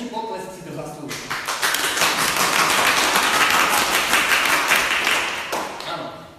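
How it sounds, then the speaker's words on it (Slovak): Dense applause from a small group at a Slovak band's studio session swells to a loud, sustained clatter of clapping, then fades, with voices briefly heard over it. "o to väčší potlesk si to zaslúžime"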